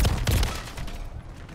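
Renetti pistol gunfire in the video game Modern Warfare 3: a couple of sharp close shots at the start, followed by a brief fading rumble, with no voices.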